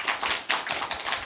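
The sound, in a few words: audience applause for traditional musicians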